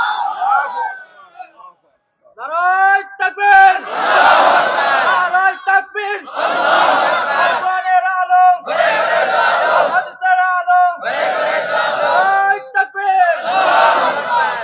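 Large crowd at a multi-day Quran tafsir mahfil in Bangladesh roaring a chanted response in repeated loud bursts, each swell answering a leader's call, with brief pauses between the rhythmic shouts.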